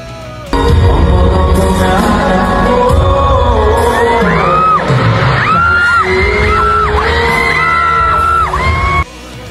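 A large concert crowd at a coliseum screams and whoops in loud sustained waves, with rising shrieks cutting through a dense roar of voices and booming sound.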